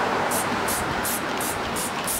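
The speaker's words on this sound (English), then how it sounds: "all I'm doing is just spraying this stuff on there to loosen up my hand prints" Cleaner is sprayed onto the hull of a Cruise Craft boat in a steady, close, loud hiss with faint rhythmic pulses, and no voices over it.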